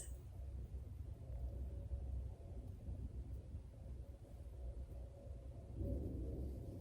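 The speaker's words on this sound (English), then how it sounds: "And the thunder, of course." Low, rolling thunder rumbles continuously beneath a steady rush of wind during a tornado storm, heard from indoors in an inner room of a house, moderately loud with no talking.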